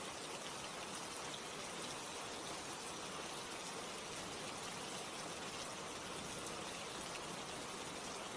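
Rain falls in a steady, even hiss that continues unbroken with no voices.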